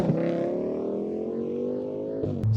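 Audi family estate car with a big-horsepower engine pulling away, a steady deep boomy exhaust drone rising slowly in pitch, close and loud throughout.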